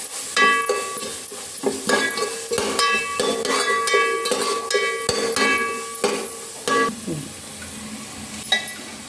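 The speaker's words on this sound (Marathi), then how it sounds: "हे सर्व जिन्नस परत एकदा परतून घ्यायचं।" Ginger and green chilli paste with other vada pav filling ingredients sautéed and stirred in a pan, with repeated scraping strokes of a spoon and metallic clinks over a light sizzle, close and fairly loud.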